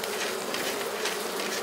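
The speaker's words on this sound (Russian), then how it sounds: "Здесь обитают среднерусские пчелы." Central Russian honey bees hum and buzz thickly around a hive at an apiary, a close, steady droning swarm with no voices.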